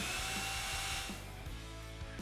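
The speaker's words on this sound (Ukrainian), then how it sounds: "Обертальний режим призначений для свердління отворів у металі, пластмасі та дереві." An Elprom EPE-1010 rotary hammer drill runs in plain rotary mode, giving a loud continuous motor whine that stays steady for the whole stretch, with no voices.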